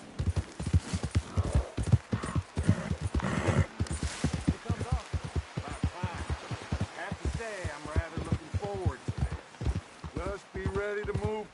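A horse in the Red Dead Redemption 2 video game trots at a steady, rhythmic clip-clop of hooves, close and clear, while people talk over the hoofbeats.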